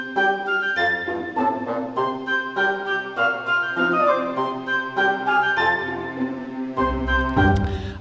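Orchestral trailer-style passage with pizzicato bass, cello and violin playing together: sustained string chords over plucked low notes, steady and fairly loud, with a heavier low hit near the end.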